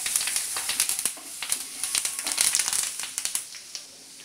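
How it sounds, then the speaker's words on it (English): Finely chopped garlic sizzling in hot oil with turmeric and curry leaves: dense crackling and popping bursts over a steady hiss, close and crisp, continuing for several seconds without talk. "In goes our finely chopped garlic, and we'll mix it well."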